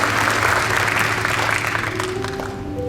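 Sustained applause from an audience at a church 25th-anniversary birthday celebration for the organizing committee, dense steady clapping filling the room with a faint tonal hum beneath, slowly thinning toward the end.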